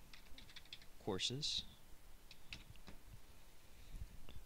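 Scattered keystrokes on a computer keyboard, quiet close clicks in short bursts with someone speaking briefly over them.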